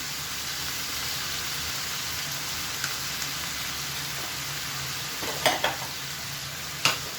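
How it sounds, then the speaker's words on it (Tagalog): Fish sauce goes into a hot pan of pork and liver stew ingredients, giving a steady loud sizzle with a few sharp clinks of a spatula against the pan near the end. "Maglagay tayo ng konting patis."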